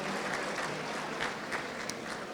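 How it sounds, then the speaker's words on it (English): Applause from the crowd at a charity fundraising gala, a steady, moderately loud spread of many hands clapping throughout without a break. "Give yourself a round of applause"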